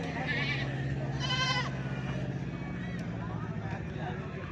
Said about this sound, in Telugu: ఈ మొత్తం ఎన్ని మేకలు ఉన్నాయి